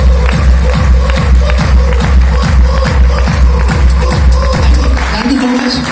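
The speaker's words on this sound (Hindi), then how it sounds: "एक बार जोरदार ताली मेरे पहुंचने के लिए" Loud, sustained crowd applause with cheering fills a seminar hall, dense rhythmic clapping holding steady throughout before a brief lull near the end.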